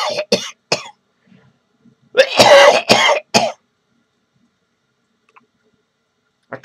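A man coughs and clears his throat in a few loud, harsh bursts close by, with brief quiet gaps between them.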